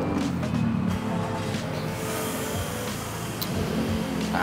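A Toyota Alphard with an automatic transmission runs at close range, its engine holding a steady, rumbling note with small fluctuations and no voices over it.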